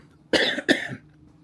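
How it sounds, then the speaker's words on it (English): Two quick, harsh coughs in a row, close and loud, followed by quiet. "let me cough a bit"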